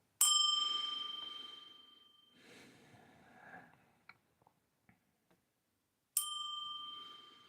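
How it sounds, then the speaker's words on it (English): A bell rings out with a bright, sustained ding that slowly fades, followed by a few soft taps, then a second clear strike near the end. "Concentrate on the dinging noise of this bell."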